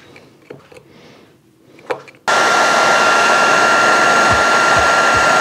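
After some faint workshop handling noises, a hot air tool switches on and blows with a loud, steady whooshing roar, used in a bike workshop to melt red Loctite on a Giant Defy bottom bracket.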